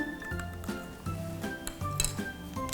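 A spoon clinks briskly against the inside of a plastic cup while stirring food coloring, tapping out a quick, even rhythm of light knocks, close and fairly quiet.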